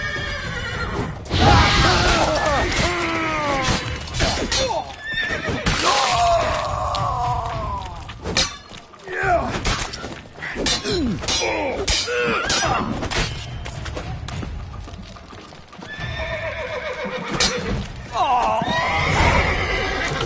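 Video game horses neigh and whinny loudly again and again, mixed with hoofbeats, thuds and clattering commotion.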